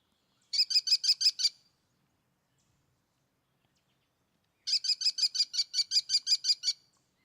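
Two clear bursts of rapid, high-pitched bird calls from a bird that hunts smaller birds by dive-bombing them, each a quick series of sharp repeated notes, separated by a few seconds of silence, with no talking.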